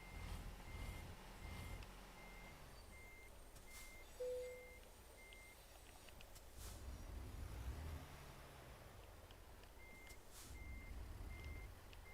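A heavy-haul truck backs up in American Truck Simulator, with a run of evenly spaced reversing beeps that drops out and then comes back. The beeps sit over a steady, loud engine drone, and nobody is talking.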